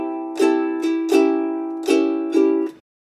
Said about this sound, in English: try down, down, up on both chords